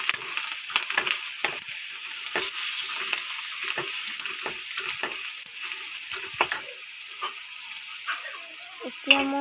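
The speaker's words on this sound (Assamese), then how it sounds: "হালধি গুড়ি দি দিছোঁ 1 চামুচ। ভালদৰে পিঁয়াজখিনি ভাজি থাকিম" Sliced onions fry with a spoonful of turmeric powder in hot oil, a steady close sizzle broken by irregular scraping and stirring knocks, with no one speaking.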